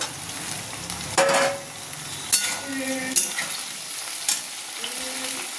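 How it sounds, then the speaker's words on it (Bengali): Potato, pumpkin and jackfruit seeds frying in a pan make a continuous sizzle, punctuated by several loud scraping stirs and clinks of the spatula against the pan. "তো এখন আলু কুমড়োটা আমি ভেজে নেব"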